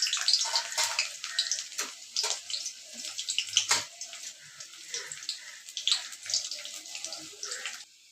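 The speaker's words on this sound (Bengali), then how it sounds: "আর এখানে তো তেল বসিয়ে দিয়েছি, একটা পেঁয়াজ কুচি দিয়ে দিলাম।" Chopped onion frying in hot oil in a pan, a steady close crackling sizzle with scattered sharp pops and spits and no talking.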